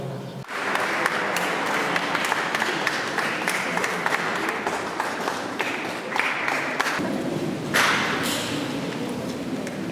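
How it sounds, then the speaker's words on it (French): A church congregation at a French Catholic communion and baptism Mass applauds steadily, dense reverberant clapping filling the space for nearly ten seconds with a brief swell near the end. "On peut vraiment tous s'applaudir."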